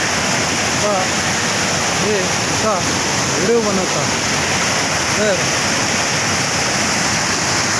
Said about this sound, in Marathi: हा पाऊस चालू झाल्यापासून हा तिसरा पूर आलेला आहे नदीला